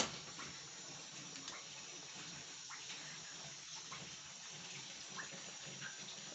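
Faint, steady stream of very hot water pouring into flour for vada dough, a soft continuous gush with light splashing, quiet and uninterrupted.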